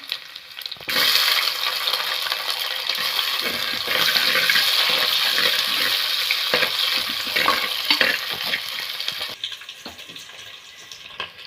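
Onion and garlic sauté in hot oil with fenugreek seeds in a pan, a loud continuous sizzle with bursts of spatula scraping and stirring, easing off near the end; no one speaks.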